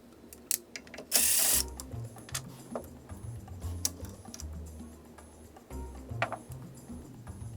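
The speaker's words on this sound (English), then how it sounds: "we'll use a flathead screwdriver to pull the plug and then just pull the brush out." A flathead screwdriver pries out a plug and a motor brush from a DeWalt DWS782 miter saw, making close, faint clicks, ticks and small scraping taps with one brief louder rattle, and no talking.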